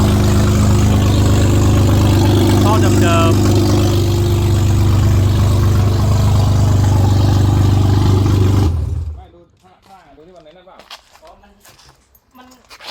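A BMW E36 M Power car engine idles loudly with a steady low rumble, then cuts off abruptly, leaving quieter background sounds.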